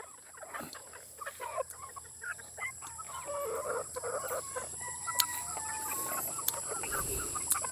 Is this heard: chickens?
yes